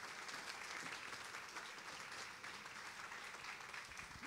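Sustained applause from an audience at an early childhood policy forum with gubernatorial candidates, steady dense clapping filling the room throughout, loud and continuous without speech.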